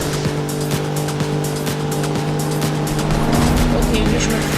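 Racing car engine from Need for Speed Rivals, a steady loud drone with a faint tire squeal, during a time trial, continuous throughout.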